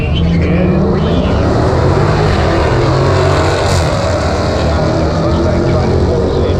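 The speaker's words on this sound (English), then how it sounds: "Challenger got a 6-liter Hemi and gets the win over the 5-liter Mustang" Dodge Challenger SRT 392 with a 6-liter Hemi drag racing a 2018 5-liter Mustang GT, a loud, steady engine roar with wind rush held for several seconds as the cars run flat out.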